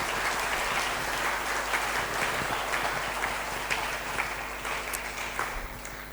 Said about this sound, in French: Pouvons-nous bénir le Seigneur en applaudissant?